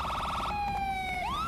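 The safety car's siren at the Subida al Fito hill climb, European championship round 4, opens with a fast warbling yelp, then settles into a held tone that dips and rises again, loud and alone.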